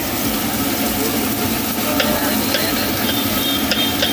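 Eggs frying on a street food griddle, a steady close sizzle with faint scraping and clinking from the cooking, continuous throughout with no talk.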